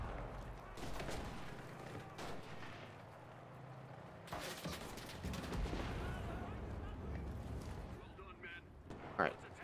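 Bursts of MKb-42H assault rifle hip fire in the shooter game Enlisted come in short, sharp volleys with gaps between them, set against a busy battlefield backdrop.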